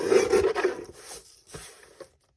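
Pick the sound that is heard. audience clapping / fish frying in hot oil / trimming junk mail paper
trimming junk mail paper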